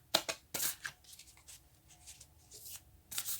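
Large tarot cards, bigger than standard decks, being shuffled by hand: sharp riffling bursts at the start and end with softer rustling and sliding in between, close and fairly quiet, no talking.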